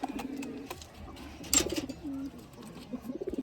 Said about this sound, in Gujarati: આ બે કબૂતર છે